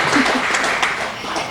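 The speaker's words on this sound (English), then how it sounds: "good clap, yay!" Brief round of audience clapping at a public library evening event about Abigail Adams, a dense wash of claps at moderate level lasting a second or two with no talk over it.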